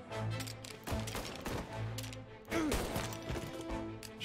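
Gunfire in the video game Mafia Definitive Edition, a rapid run of sharp overlapping shots with a heavier blast partway through, loud and close over continuous game sound.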